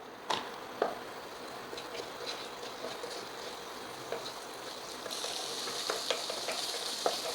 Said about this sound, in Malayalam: ഇതെല്ലാം ചേർത്ത് നമുക്ക് നന്നായിട്ടൊന്ന് വഴറ്റിയെടുക്കാം